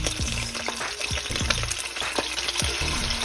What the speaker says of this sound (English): we're gonna go ahead and saute this fat back first